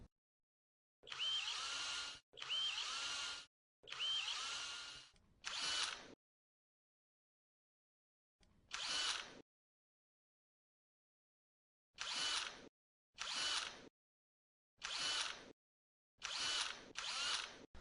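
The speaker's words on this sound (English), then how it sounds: "Start with the smaller 3/32 drill bit and drill the hole." Short bursts of an electric drill with a 3/32-inch bit drilling pilot holes in an ROV frame, spinning up and stopping, repeated about ten times with quiet gaps between, close by and clear.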